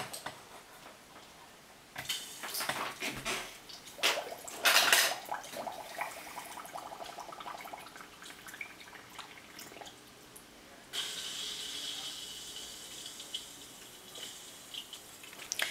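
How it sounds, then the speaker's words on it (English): A small water pump clicks on, then water trickles and gurgles faintly through the condenser of a distillation apparatus, with occasional ticks and clatter. "I'm just gonna plug in my pump and I'll show you how that works"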